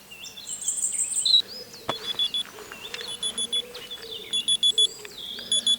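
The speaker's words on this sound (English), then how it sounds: "that alarm wouldn't have been too good if it was only off now" An alarm clock goes off outdoors during a landscape photography outing, sounding as repeated short high electronic beeps in steady pulsing bursts over several seconds, with bird chirps and faint outdoor ambience underneath.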